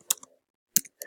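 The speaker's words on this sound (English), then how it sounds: "Just put your fingers on the keyboards and type a thing" A few isolated keystrokes on a computer keyboard, two sharp close clicks with small trailing taps and a third quieter one, in otherwise near-silence.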